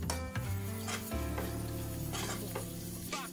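Flour roasts in a thick-bottomed pan over a low flame as it is stirred, producing soft repeated scraping strokes over a faint sizzle, close and quiet with no talking.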